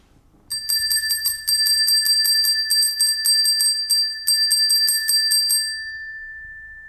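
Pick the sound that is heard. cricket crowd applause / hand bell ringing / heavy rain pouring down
hand bell ringing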